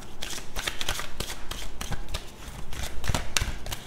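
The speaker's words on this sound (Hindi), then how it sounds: "Let's just pull some more cards." Tarot cards being shuffled and pulled from a deck, a busy run of crisp riffling flicks and sharp taps repeating close up and fairly loud, with no speech over them.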